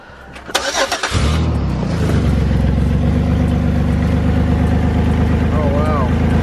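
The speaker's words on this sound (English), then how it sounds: "He's gonna start the car up and you guys are gonna hear." A car engine cranks briefly and catches, then settles into a steady, loud idle after an exhaust weld repair, with a few voices over the running engine.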